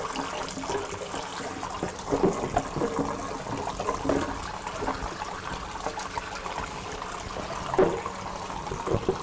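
Running tap water at a barber shop for washing a customer's hair, a steady close splashing and trickling stream that stays continuous throughout with small surges.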